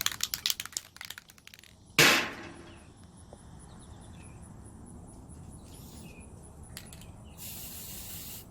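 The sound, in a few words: spray paint can spraying white paint on tumbler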